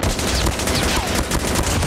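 Rapid automatic gunfire from a first-person shooter mobile game crackles in dense, continuous bursts, loud and sustained with no pauses.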